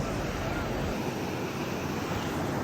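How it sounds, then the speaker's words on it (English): Ocean waves roll onto an Atlantic beach on a warm morning, a steady broad wash of surf mixed with wind rushing across the microphone, with no voices heard. "Another beautiful morning at the beach."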